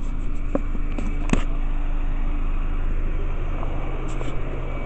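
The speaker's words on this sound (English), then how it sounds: "Their car is on." A parked neighbor's car sits idling nearby, its engine a steady low rumble under faint outdoor background noise, with a few brief clicks and rustles close to the listener.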